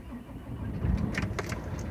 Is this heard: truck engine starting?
yes